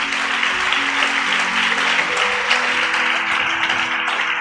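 A church congregation applauds during a sermon, giving a steady wash of clapping with sustained keyboard or organ tones playing beneath it throughout.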